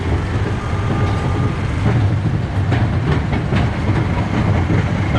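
A roller coaster train rolls along its track at a seaside pleasure park, heard as a steady, loud rumble with rapid clattering from the wheels throughout.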